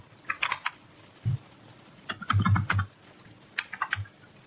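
Fingers type a router configuration command on a computer keyboard in irregular bursts of crisp close clicks, with short pauses and a few heavier key strikes.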